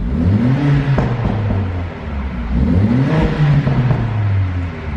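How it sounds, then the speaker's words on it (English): A 2018 Mercedes-AMG GLA 45 4MATIC revs through its AMG performance exhaust in two loud, rising-and-falling blips, each swelling to a throaty roar and settling back to a rumbling idle, close by with no talking. "Let's go ahead and give it a little rev just to hear that AMG exhaust."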